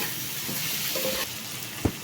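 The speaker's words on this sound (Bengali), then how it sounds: "এবার আমি কিছুটা হলুদ গুঁড়ো অ্যাড করছি, বেশ আর একটুখানি ভেজে নেব" Tomatoes with turmeric powder frying in a pan, a soft continuous sizzle with faint stirring and a brief clink near the end, close up and no speech.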